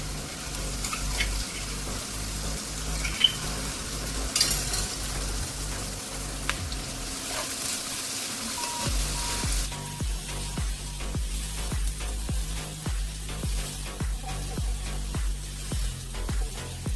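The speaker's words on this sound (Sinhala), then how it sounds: "අපි දැන් මේකට දාගන්න කොටාගත්ත ඉඟුරු සුදු ලුණු ටික." Crushed ginger and garlic sizzle steadily in a pan for a village-style Sri Lankan fish tempering: a dense, close crackle that shifts in tone partway through as frying continues, with no voices.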